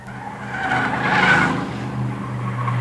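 Race cars, among them a Saturn, roar around the third turn at Delaware Speedway on a Friday night, with a continuous loud engine drone and a tire squeal peaking mid-pass.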